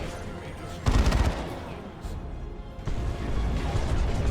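Base turrets in Dawn of War 2: Retribution fire in bursts of rapid, crackling shots during a battle, with a louder burst near the start and another stretch of firing toward the end.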